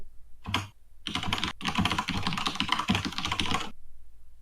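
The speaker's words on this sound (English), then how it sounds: "who is typing?" Rapid computer keyboard typing fills most of the clip in dense, continuous bursts of clicking keys, close and fairly loud, with a brief pause near the start and no talking.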